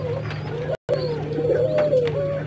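Soft, repeated cooing of pigeons close by over a steady low hum, with a brief dropout partway through.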